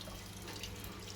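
A tap dribbling liquid during a home beer brew, a soft steady trickle heard close and quietly with no voices.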